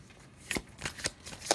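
Oracle cards shuffled by hand, with several quick, crisp riffling bursts spaced about half a second apart, close and fairly quiet, with no talking.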